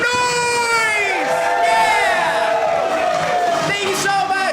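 At a Saturday night improv comedy show at Made Up Theater, a theater crowd cheers and whoops loudly for several seconds, with a host's raised voice over the noise.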